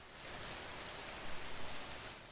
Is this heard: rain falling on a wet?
yes